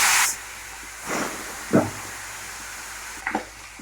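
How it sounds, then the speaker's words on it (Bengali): Turmeric-coated fish heads drop into hot oil in a kadai, giving a few short hissing bursts of sizzle, close and moderately loud, separated by quiet gaps. "কড়ার তেলটা তেতে গেছে, মাথাগুলো দিয়ে দেবো"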